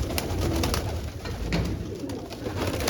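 Large pigeons cooing up close, repeated soft throaty coos over a dense noisy background of many birds, with no talking.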